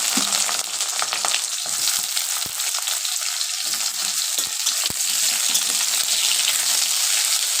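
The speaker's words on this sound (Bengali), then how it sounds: "বেগুনটা সবার লাস্টে ফ্রাই করছি" Eggplant fries in oil in a wok, a steady dense sizzle running throughout with occasional sharp pops and light stirring clicks, no talking.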